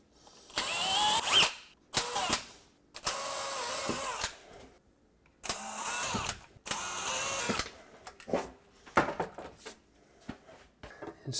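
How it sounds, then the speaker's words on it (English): A power drill pre-drills hinge holes in a shaker-style kitchen cabinet door, whirring in short bursts of a second or two with brief pauses between, close and moderately loud. "then we pre-drill."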